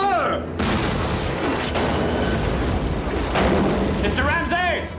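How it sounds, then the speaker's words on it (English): Ship cannons fire in a film battle scene, heavy booming blasts with long rumbling tails filling the clip, one sharp report at the start and another near the middle, with shouted voices between. "Mr. Green, the captain says to clear your ports and commence firing."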